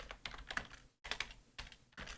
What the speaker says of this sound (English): John, I suppose I better type these out